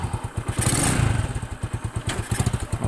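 A motorcycle engine runs on a rural road between Santo Domingo and Prieto Diaz in Sorsogon, with a close, steady, rapid pulsing putter and a brief louder surge partway through.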